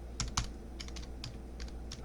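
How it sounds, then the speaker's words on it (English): Fast typing on a computer keyboard, a quick run of close, crisp key clicks in uneven bursts over a low steady background hum. "you can probably see we are, considering how fast I'm typing this"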